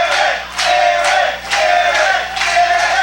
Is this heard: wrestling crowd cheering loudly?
yes